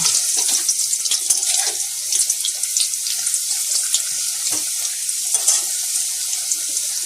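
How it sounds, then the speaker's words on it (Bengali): Potatoes frying in a pan, giving a continuous, fairly loud hissing sizzle with scattered crackles and pops that stays close and even from start to finish. "প্রথমে করলাম আলুটা ভালো করে ভেজে নেব।"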